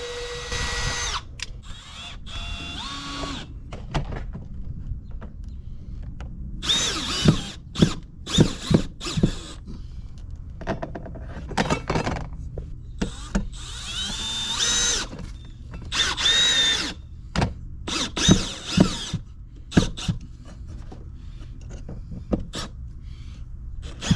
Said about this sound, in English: then drill them out and mount the bracket